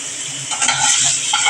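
Potatoes frying with salt and turmeric in a pan, a close sizzle punctuated by scraping and stirring clinks of a spatula against metal, fairly loud and busy, no speech.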